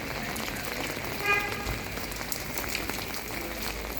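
Steady rain in a town in Bari, Italy, patters on surfaces in a close, even hiss with faint scattered drops, lasting the whole few seconds.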